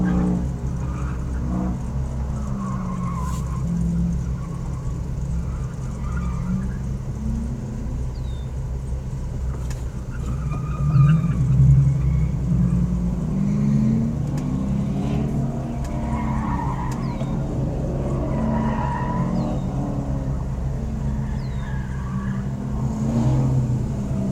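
A competitor's sports car runs an SCCA autocross course in Grand Forks, North Dakota, its steady engine rumble continuing throughout with tire skids and squeals, swelling louder as it passes near the midpoint, without talk.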